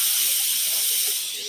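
Steam hissing from a steam iron fed by a separate boiler tank, a steady close hiss that fades slightly at the end, with no talking.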